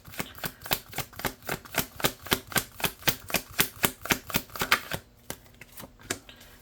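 Tarot cards riffle-shuffled in a rapid, even run of about twenty crisp papery snaps over roughly five seconds, close and clear, then a few softer settling flicks with no talking.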